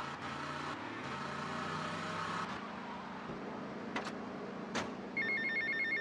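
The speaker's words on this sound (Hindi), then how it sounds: "और ये देखो फोन आ गया।" A phone rings inside the GTA Vice City video game over a continuous engine and road hum, its electronic trill repeating toward the end without talk.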